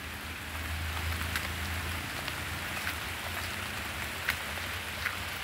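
Heavy rain pours steadily outdoors, a dense, even wash of drops with scattered louder splashes close by, alone with no voices.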